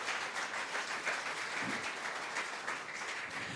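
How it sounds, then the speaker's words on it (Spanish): A church congregation applauds with dense, even clapping at a moderate distance, holding steady throughout with no pauses. "Dale ese fuerte aplauso, Rey de Reyes."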